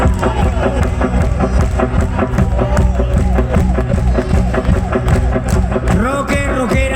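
A crowd claps along at a live rock festival concert, rhythmic clapping and cheering mixed with loud music and a voice shouting over it, dense and close.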